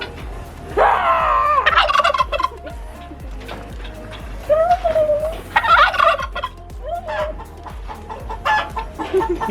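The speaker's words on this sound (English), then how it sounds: "That's a guinea fowl." Guinea fowl calling loudly and repeatedly close by at a timber town hedge maze in Bago, Australia, with harsh rising cackles in bursts and other fowl clucking around it.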